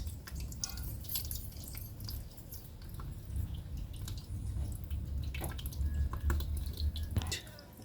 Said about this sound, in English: the excess water is draining out